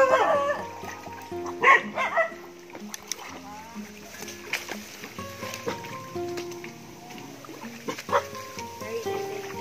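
Dogs bark in the distance on a mountainside, a few scattered yips and barks that are faint under close talk and outdoor rustling.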